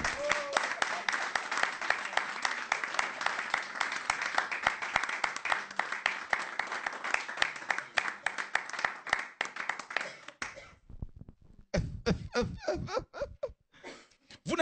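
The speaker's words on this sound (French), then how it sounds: "On peut acclamer la parole de Dieu." Church congregation clapping and cheering in loud, sustained applause for several seconds, fading out and followed by a preacher speaking in French.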